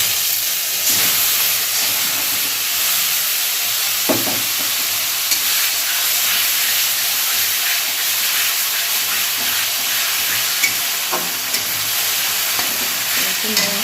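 Spice paste with black cumin (kalo jeera) tempering sizzles and fries steadily in hot oil in a kadai, a continuous close hiss with occasional stirring scrapes throughout.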